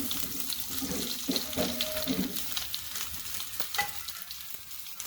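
Drumstick (moringa) pieces tossed into a hot pan for moringa soup, crackling and sizzling steadily in oil, with a few stirring clinks near the start.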